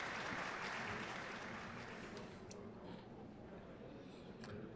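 Concert audience applause in Trails of Cold Steel after an operetta, strong at first then thinning and softening as the clapping winds down, with a couple of sharp bright ticks standing out over the fading crowd.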